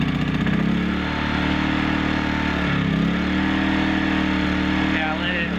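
A portable generator engine runs steadily while warming up, a loud close continuous drone with a slight wavering pitch and no break in the sound.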